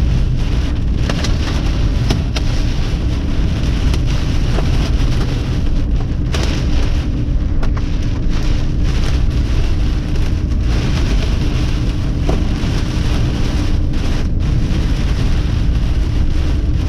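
Heavy rain pours down during a storm in Wisconsin, a dense, loud and continuous hiss of drops beating on surfaces. Low rumbles run beneath it and a few sharper spatters stand out. No one speaks.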